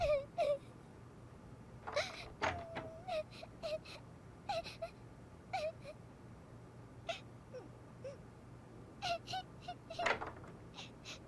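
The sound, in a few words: crying sound in a film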